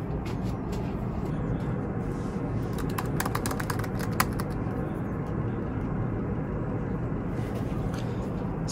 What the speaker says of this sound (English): Typing on it, it gets a little wobbly, but not bad.